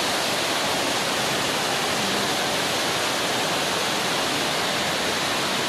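Small indoor waterfall in a humid plant house in Hong Kong, a continuous close, even rushing of falling water filling the whole space without voices.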